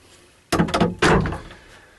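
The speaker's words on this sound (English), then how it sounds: "open the door for the sink there, and then our little portaloo behind the door." A small interior door on a narrowboat is pulled open to reach the sink and portaloo, giving two close, sharp knocking and rattling bursts, then quiet.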